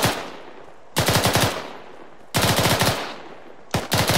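Automatic rifle fire during a military squad formation and movement training drill comes in repeated loud bursts of rapid shots, each lasting about half a second, with short pauses between them. It is close and has no voices over it.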